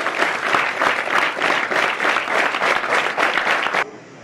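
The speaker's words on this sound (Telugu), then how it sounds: "మన గురువులకు ఒకసారి గట్టిగా క్లాప్స్ ఇవ్వాలని మనస్ఫూర్తిగా కోరుకుంటున్నాను" An audience at a sub-junior inter-district shooting ball event gives the teachers a round of dense, steady clapping that holds evenly for about four seconds, then stops abruptly.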